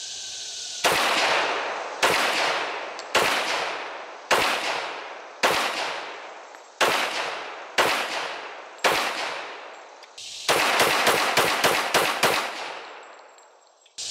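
A 1911 pistol, Ruger or Para Ordnance, fires at a shooting range: about eight loud single shots spaced roughly a second apart, each with a ringing decay, then a fast rapid string of shots fading out.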